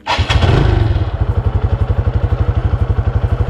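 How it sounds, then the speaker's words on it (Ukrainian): A TVS HLX 150 motorcycle engine cranks with a loud burst, then settles into a steady, rhythmic idle thumping close by. "Зараз запускаємо двигун."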